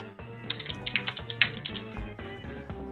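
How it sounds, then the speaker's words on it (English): Rapid keyboard typing during a Jackbox party game session among friends, a fast irregular clatter of keystrokes heard up close over background game music. "You're typing"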